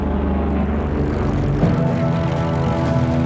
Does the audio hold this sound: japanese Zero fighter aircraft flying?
yes